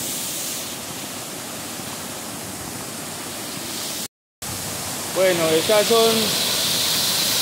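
Water rushes steadily at a large, well-built dam with a strong flow, a constant broadband roar that holds throughout, with a short dropout midway and someone speaking briefly near the end.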